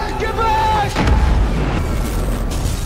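An explosion in a film scene that throws out strange black smoke and spreading sparks: a deep boom over a heavy, sustained low rumble, with a tonal score fading beneath it.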